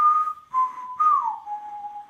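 Someone whistles the opening of The Good, the Bad and the Ugly theme: three clear, close notes, with the last one sliding down into a long held pitch. No other sound is heard.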